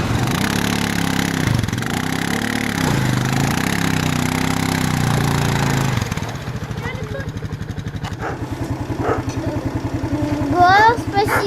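A children's quad bike engine idles and revs at moderate loudness at an ATV club in Russia, its note shifting midway, while children and adults talk over it.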